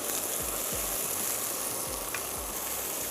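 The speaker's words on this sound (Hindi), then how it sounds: "ऐड कर देंगे 1 अदद चॉप्ड प्याज, और इसको हमने करना है हल्का सा सौते कर रहे हैं" Chopped onion sautéing in a pan for peanut chikki, giving a steady, close sizzle that fills the whole stretch, with a few soft low thumps from stirring underneath.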